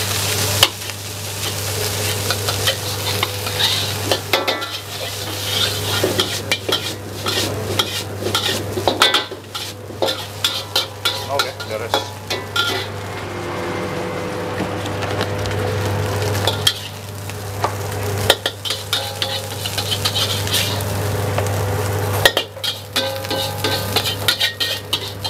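Chili and Singapore-style fried rice are stir-fried in a pan, giving a constant loud sizzle with repeated scraping and clanking of a utensil against the metal, under a steady low hum and without speech.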